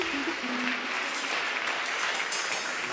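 An audience bursts into applause during a live religious gathering, with a steady wash of clapping that holds evenly without pause.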